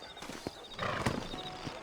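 Horse hooves clip-clop at a steady walking rhythm in the Red Dead Redemption video game, close and moderately loud, with a brief whinny-like tone mixed in and no talk.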